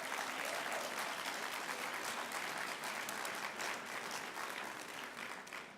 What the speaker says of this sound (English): Another round of applause for the Boston City Singers Tour Choir.